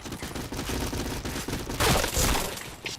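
Gunfire from the shooter game Point Blank sounds in quick, continuous automatic bursts that grow louder and harsher partway through, with a sharp crack near the end.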